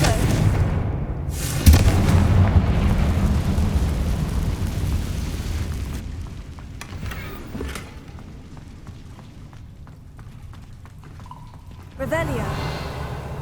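An explosion from the Confringo fire spell in the Hogwarts Legacy video game, a loud boom that rumbles and fades, followed by quieter ambience and a second blast near the end, with spoken game dialogue.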